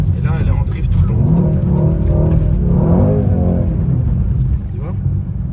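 Mercedes C63S engine revving hard through a sustained drift, loud and close, with someone talking over the engine noise throughout.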